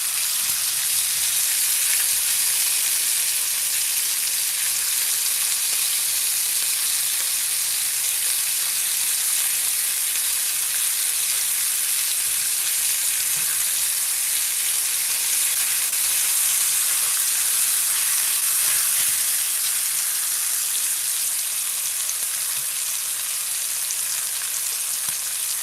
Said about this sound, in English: flip this sausage over. And let that rip for another minute or two.